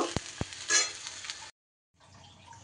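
Vegetables, including drumsticks, frying in a pan while being stirred, with soft sizzling, a few sharp utensil clicks against the pan, a pause, then quieter frying.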